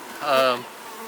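Honeybees at an opened hive give a short, close buzz that swells and fades within about half a second, with nothing else heard.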